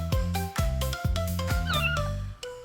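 A cartoon kitten cries in a run of four or five loud, close meows, evenly spaced and ending in a short softer mew, with backing music.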